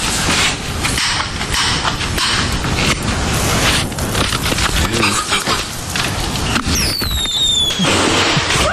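Fireworks go off in a dense, continuous barrage of crackles and sharp pops, with a few whistling rockets rising near the end, loud and unbroken.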